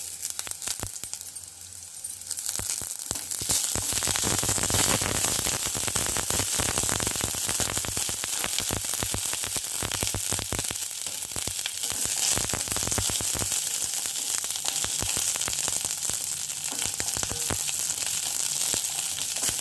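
Curry leaves drop into hot oil with fried onions and asafoetida, bursting into a loud, dense crackling sizzle that stays intense and steady after a quieter start, close up with no speech.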